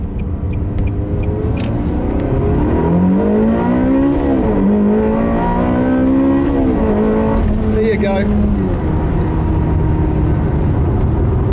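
A loud Ferrari 360 engine with F1 gearbox revs up and down through gear changes, its pitch climbing and dropping, with a brief spoken remark over the roar.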